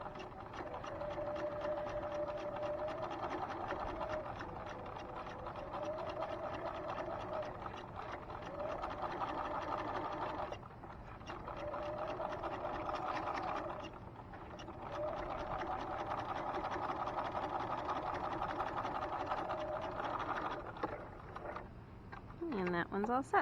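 Sewing machine stitching a turned-under seam finish at 1/8 inch, a steady close whirring hum running in long stretches with short pauses, talking heard intermittently over it.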